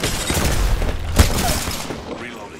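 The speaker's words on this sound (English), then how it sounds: "They're shooting at me?" Gunfire in the Apex Legends video game: a burst of distant shots and a single heavier boom midway over a steady wash of game noise, with no clear speech.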